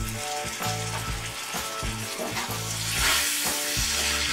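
Masala spices sizzle in a pan over low to medium flame for a tangra fish curry with potato and brinjal, a close steady fry broken by repeated scraping stirs and a brief louder hiss toward the end, no one speaking.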